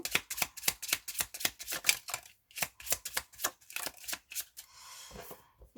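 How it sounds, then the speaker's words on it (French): Tarot cards are shuffled by hand in a rapid run of crisp, rhythmic slaps and flicks, close and quiet, ending in a softer sliding rustle as cards are drawn. "allez, on va prendre 5 cartes"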